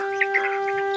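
A few brief clucks from backyard chickens sound over a steady electrical hum, close and short.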